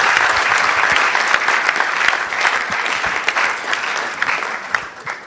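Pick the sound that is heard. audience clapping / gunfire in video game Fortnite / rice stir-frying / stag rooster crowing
audience clapping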